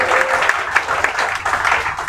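A live audience at a Hindi poetry and comedy stage show breaks into loud, close applause, a steady mass of clapping with rhythmic pulses running throughout and no talking over it.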